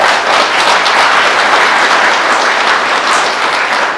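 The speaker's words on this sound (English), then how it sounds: "please give her a round of applause" A large audience at a police promotion ceremony gives a loud, sustained round of applause, dense overlapping claps filling the room evenly from start to finish.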